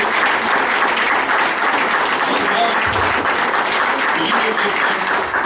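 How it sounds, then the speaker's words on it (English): A Baptist church congregation in Silsbee, Texas, breaks into dense, loud, sustained applause during an altar call, with voices and cheers mixed in throughout. "Let's give them another big round of applause."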